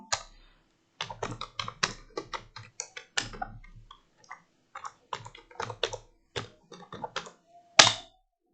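Close, clicky typing on a computer keyboard: quick bursts of keystrokes with short pauses and one heavier key hit near the end, with no talking.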